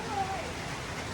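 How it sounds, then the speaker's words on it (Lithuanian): Steady rain hisses in a dense, even wash of noise, with a faint voice mixed underneath. "Lietus nesibaigė"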